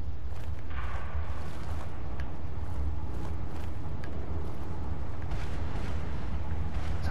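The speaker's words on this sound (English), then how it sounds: "Sounds like thunder." Thunder rolls as a continuous, heavy low rumble that fills the whole stretch at a steady loudness, broad and distant-sounding, with no voices over it.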